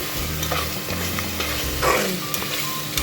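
Curry masala with chili powder and turmeric frying and being stirred in a pan for a mutton bone and bitter gourd curry: a continuous close sizzle with scraping spoon strokes throughout.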